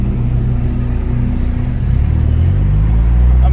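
Car with a new motor, untuned and with a blown turbo, accelerating hard in a second-gear pull, a loud close engine roar whose pitch climbs steadily as the revs rise.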